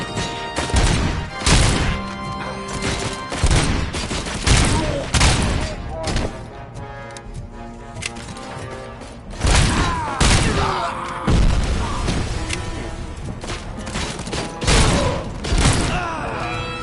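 Gunfire in the video game Robocop: Rogue City, a dense run of loud repeated shots and impacts through most of the stretch, with thuds and mechanical clatter mixed in.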